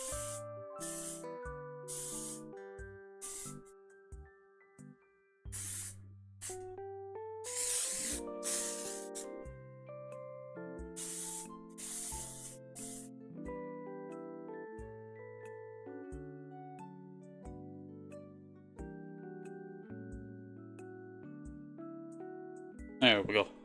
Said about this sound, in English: I was just spraying some Charlie Red